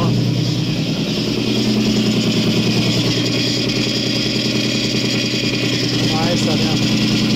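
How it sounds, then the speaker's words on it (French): A Nissan 350Z engine runs steadily at idle with a continuous mid-pitched drone and a faint metallic rattle at the front, loud and close throughout, with some talk mixed in. "J'entends un bruit de ferraille à l'avant que j'aime pas."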